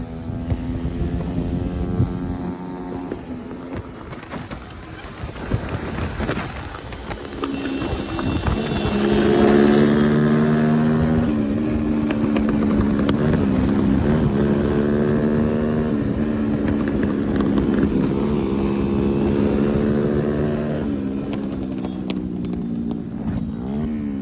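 A loud, throaty Hero Splendor motorcycle engine revs and rumbles with a rough, modified silencer exhaust, building steadily and holding a strong drone throughout, at a Shiv Jayanti celebration in Parbhani.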